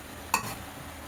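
Garlic and ginger sizzle faintly in a hot pan as a utensil gives one quick stirring scrape over a steady low frying hiss.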